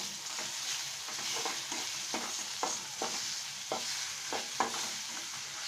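A spoonful of chilli powder and a pinch of turmeric being stirred in a frying pan for egg bhuna, a steady close sizzle broken by about ten sharp spoon scrapes against the pan.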